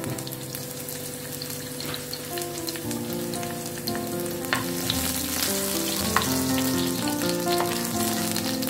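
Chopped garlic frying in hot soybean oil for a beef steak gravy, a dense, continuous crackling sizzle that grows slightly louder over time, close-up and steady like rain, with occasional light pops and no voices.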